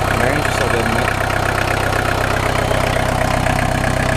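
A 1.6 diesel VW Golf engine idling steadily, a loud, close, rough clatter with an even knocking rhythm and no breaks.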